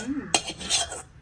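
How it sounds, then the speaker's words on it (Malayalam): Spoon clinking and scraping against a pot while stirring palada payasam with ghee-fried cashews, flame off; a sharp metallic clatter followed by a few quick scraping strokes, close and fairly loud. "ഇത് ഇളക്കി കൊടുക്കണ്ടേ?"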